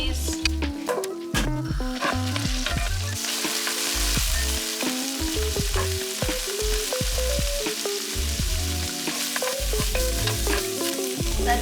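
Vegetables cook in a pan with a loud, continuous sizzle and frequent clattering stirs and scrapes close by, busy and dense throughout.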